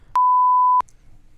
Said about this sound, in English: I'm gonna need that sound Beep.